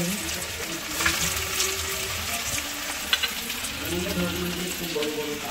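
Ginger and garlic fry in a pan, giving a steady soft sizzle broken by a few light stirring clicks, while a voice talks faintly underneath.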